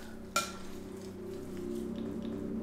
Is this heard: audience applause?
no